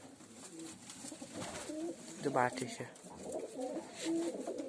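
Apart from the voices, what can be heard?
pigeons cooing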